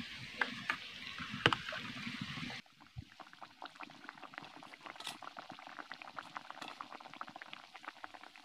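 Naan puri dough fries in hot oil with a quiet, steady bubbling crackle; it shifts abruptly partway through and then continues as fine, dense popping.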